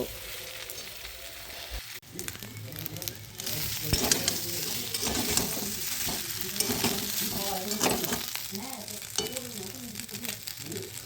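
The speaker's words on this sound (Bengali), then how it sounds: "নুন হলুদ দিয়ে পিঠেটা ভেজে নেব" Pitha frying in a pan with green chilli, ginger, whole cumin, salt and turmeric sizzles busily up close, punctuated by stirring scrapes and clinks of a utensil after a brief pause.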